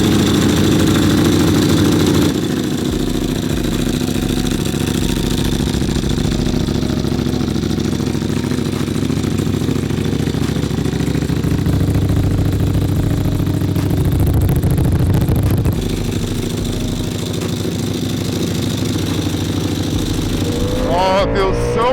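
A Ducati Panigale V4 SP2 motorcycle with cold tires runs steadily near the listener, its loud engine idling and revving for about twenty seconds, the tone shifting midway before easing off near the end.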